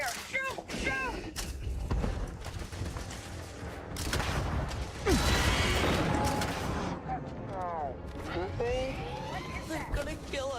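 Gunfire rattles through a Star Citizen firefight, bursts of shots and impacts layered in a busy, dense mix with a louder stretch midway and voices talking over the action.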